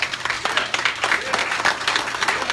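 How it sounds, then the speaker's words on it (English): Steady crowd applause with dense clapping throughout, moderately loud and continuous, with faint voices mixed in. "give them a round of applause"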